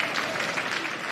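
Short burst of audience applause at the Afreximbank Annual General Meetings opening ceremony, a close, even wash of many hands clapping with no speech.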